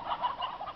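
Roosters on a farm let out a brief, close burst of clucking calls, lasting under a second.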